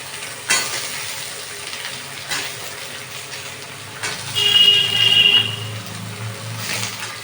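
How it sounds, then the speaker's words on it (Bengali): Potato pieces and green chillies fry in a pan under a constant sizzle, stirred with a few scraping knocks and a brief louder swirl near the middle. "নিয়ে ভালো করে আমি নাড়াচাড়া করতে থাকি"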